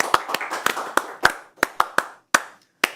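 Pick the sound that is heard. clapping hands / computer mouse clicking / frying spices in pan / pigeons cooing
clapping hands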